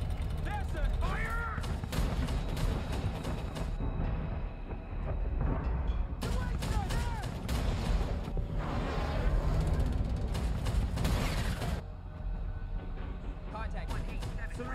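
Naval gunfire aboard a warship in a World War II film battle scene: heavy booming blasts and rumbling explosions come in loud bursts over a dense low roar, with shouted commands and other voices mixed in.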